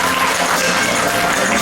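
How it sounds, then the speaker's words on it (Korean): A party-committee audience at a policy presentation on supporting the content industry claps loudly and continuously, a dense wash of hands filling the hall with no pauses. "큰 박수 부탁드립니다"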